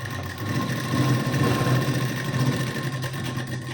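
A sewing machine stitches tucks on a blouse with a continuous, moderately loud hum that swells slightly in the middle, alone without talk.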